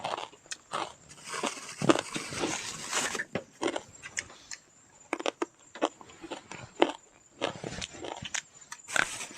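Someone bites into and chews crunchy traditional Lao food, the loud crisp crunches coming close and in irregular bursts, with short pauses between bites.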